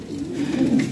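A green-headed mukhiya pigeon, offered for sale among fancy pigeons, gives a short, close, low cooing call with no other sound.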